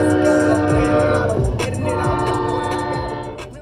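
A train rolls past a railroad crossing close by, a loud continuous rumble with rhythmic rail clatter and a sounding horn, fading slightly toward the end.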